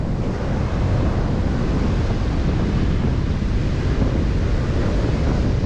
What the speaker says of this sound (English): so we're back on the beach